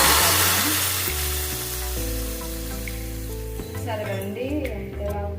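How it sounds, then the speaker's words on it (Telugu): Hot tempering with curry leaves is poured into tomato rasam, setting off a loud, close sizzle that bursts at once and then eases into a steady, softer frying hiss. "ఇప్పుడు ఈ పోపు వేసుకున్న దాన్ని ఈ రసంలో"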